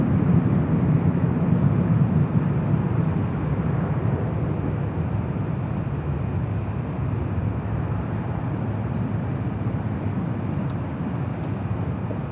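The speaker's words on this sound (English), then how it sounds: "Next arrival is a Delta 737-900ER coming in from Detroit" A Delta 737-900ER arriving from Detroit at Los Angeles International Airport gives off a broad, continuous jet roar that stays steady and fairly loud throughout, heard from a distance without any voices.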